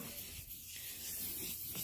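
Steady abrasive rubbing of sandpaper against a car fender on a replica MG, a continuous scratchy hiss with slight strokes, close and moderately quiet.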